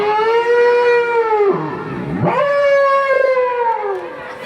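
A voice imitates an ominous dog howl, a loud, close, long wavering wail that falls away, breaks briefly, then rises and sustains again before trailing off.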